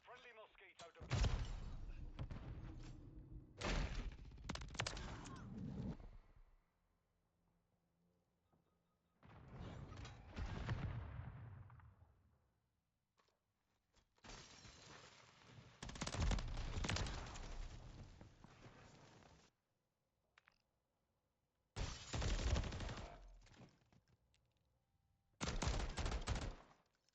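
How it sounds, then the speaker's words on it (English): Gunfire in Call of Duty Modern Warfare 3 during a Search and Destroy match, dense bursts of automatic fire and loud shots in several clusters separated by short quiet gaps, with speech in places. "let's dial down the gunfire and the grenade tossing"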